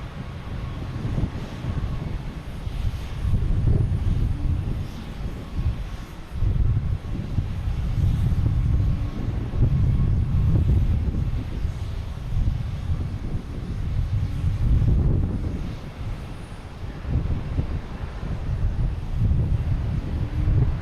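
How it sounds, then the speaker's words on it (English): An American Airlines Embraer E-175 jet arriving from Philadelphia at Boston Logan rumbles overhead in a continuous low roar that swells and ebbs, heard from a moderate distance with some wind buffeting on the microphone. "There's American Airlines coming in from Philadelphia"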